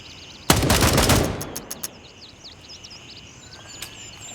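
An M4 rifle in the video game Gray Zone Warfare fires one sharp automatic burst, followed by a few scattered single shots and bird chirps in the background.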